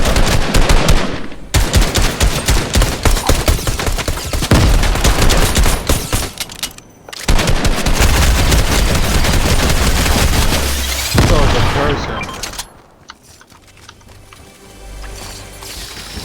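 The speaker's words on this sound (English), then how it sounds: "Oh, you getting shot at?" Rapid automatic gunfire in a video game, loud sustained bursts of shots nearly filling the stretch, broken by brief pauses, then fading into quieter, sparser noise near the end.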